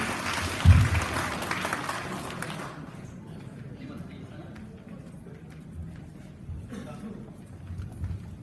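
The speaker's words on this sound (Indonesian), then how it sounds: "Aplaus untuk Pak Fahrul." An audience at a formal keynote session claps in a burst of applause that swells at the start, then fades over a few seconds into quiet room noise.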